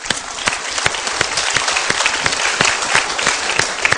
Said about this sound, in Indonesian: Tepuk tangan untuk pilihan Anda.